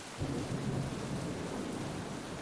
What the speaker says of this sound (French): Au petit matin, l'orage gronde dans le sud de la France